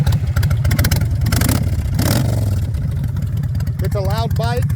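A 2006 Kawasaki Vulcan 1600 motorcycle fitted with loud aftermarket pipes starts up and idles with a deep, steady throbbing rumble close by.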